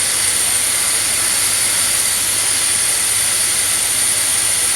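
An old Thai train locomotive engine roars loudly and steadily at close range, a continuous dense rumble with a high whine on top, with no speech.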